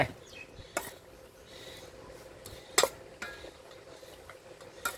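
Wooden pestle knocking into a mortar while pounding northern-style Thai papaya salad with small tamarind, sparse irregular sharp thuds and clinks at close range over a quiet kitchen background.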